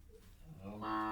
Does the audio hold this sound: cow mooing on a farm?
yes